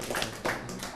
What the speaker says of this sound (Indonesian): Oh ya, tepuk tangan tuh Mbak Akiah kita.